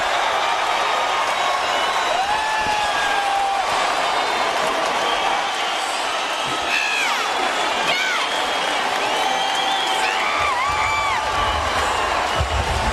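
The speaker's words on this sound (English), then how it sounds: "Listen to the reaction of this crowd." Arena crowd at an MMA fight erupts in sustained loud cheering, whoops and shouts after a fighter is knocked down to the canvas, a dense roar filling the whole stretch with rising yells on top.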